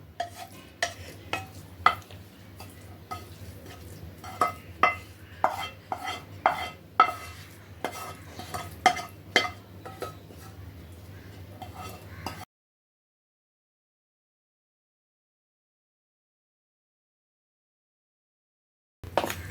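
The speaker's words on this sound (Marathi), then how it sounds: "आणि परत एकदा सर्व मिश्रण एकत्र करायचं आहे" A spoon stirring a dough mixture with sautéed fenugreek leaves in a bowl, a steady series of close clinking and scraping strokes for about twelve seconds, then silence until a brief final sound.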